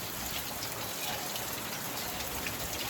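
Steady rain pours down in Bhavnagar, a dense, even hiss of drops striking surfaces that holds unbroken throughout with no voices.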